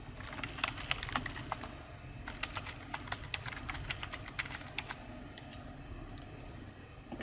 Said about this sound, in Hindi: वो मैं यहाँ पर आपको टाइप करके दिखा देता हूँ।